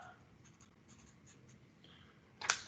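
Pen writing an answer by hand on paper during a statistics homework session, faint soft scratching strokes in a quiet room, ending with a brief louder scrape.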